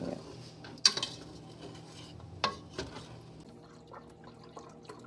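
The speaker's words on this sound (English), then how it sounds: "scrape up the stuff off the bottom of the pot" A metal spoon scrapes and clinks against a pot of Coca-Cola chili, giving a few sharp knocks and scraping strokes between softer stirring and liquid sounds, heard close with no talk.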